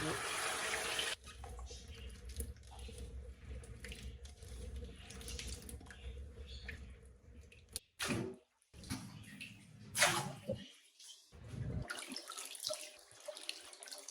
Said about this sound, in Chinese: 用盐洗完之后，我们再加上适量的清水